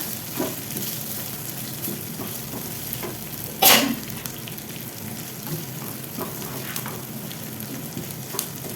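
Chicken filling with chili flakes sizzles and fries in a pan over low flame, a steady close crackle broken by occasional utensil scrapes and stirring, with one sharp clink midway.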